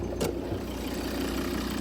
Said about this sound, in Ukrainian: Це вольвовський надійний перевірений роками двигун.